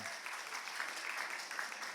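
A church congregation claps steadily and softly for a couple of seconds after a baptism, an even patter of many hands at a distance.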